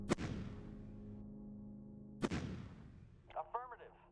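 Artillery range attack in the strategy game Shadow Empire: two sharp cracks about two seconds apart, each trailing off into a ringing decay, followed by a brief whooshing flourish at the end.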